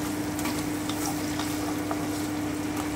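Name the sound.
tomatoes frying in pan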